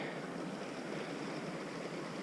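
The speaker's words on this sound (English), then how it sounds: "There's water running under there." Water runs under a snow and ice bridge on a mountain hike, making a steady, broad rushing wash that stays even and fairly close for the whole stretch with no voices over it.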